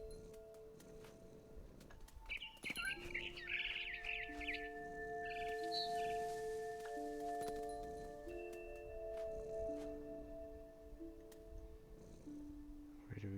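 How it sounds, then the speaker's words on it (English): In the video game What Remains of Edith Finch, a few bird chirps and tweets sound out against sustained tonal music and ambient layers, fairly faint and intermittent, clustered mid-scene. "Birds up there."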